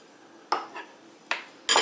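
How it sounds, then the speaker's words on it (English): A spoon scraping and clinking around a bowl while mixing a coconut and evaporated milk cake topping, three or four short separate strokes close by in a quiet kitchen. "So I'm just going to mix it up with a spoon in the bowl here."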